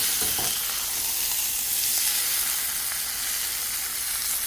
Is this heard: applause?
no